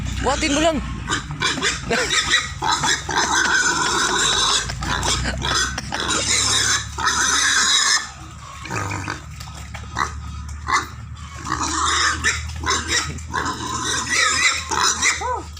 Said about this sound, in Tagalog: pagpapakain ng baboy